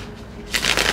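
A deck of tarot cards riffled in a quick burst of crisp fluttering, close and fairly loud, starting halfway through after near silence.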